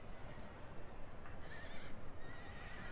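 Horses neigh over a dense, rumbling wash of hooves during a cavalry charge in the Napoleon Total War video game, the whinnies thin and distant within a constant roar of battle noise.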